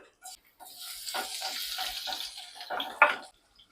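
Brief sizzling and light stirring of garlic cloves frying in oil in a pan, crackling bursts that swell for a few seconds then stop, with a sharp clink near the end.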